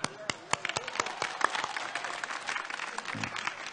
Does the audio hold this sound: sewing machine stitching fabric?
no